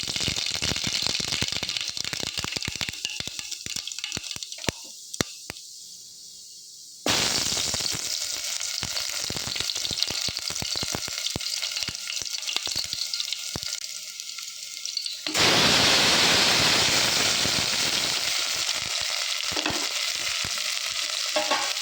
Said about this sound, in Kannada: ಒಗ್ಗರಣೆಗೆ ಬೆಳ್ಳುಳ್ಳಿ ಮುಂಚಿ ಪೂರ ದೀತೆ